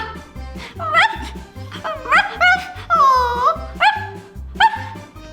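A voice imitates a sick dog's whimpering, a series of high, wavering whines and yelps over a steady, rhythmic backing beat.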